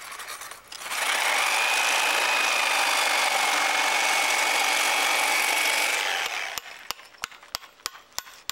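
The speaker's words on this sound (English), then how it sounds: "We're going to cut it first with a Sawzall to get the depth" A Sawzall reciprocating saw cuts a channel in wood for a garden bench, its loud steady buzzing whine running for about five seconds, followed by a series of sharp taps.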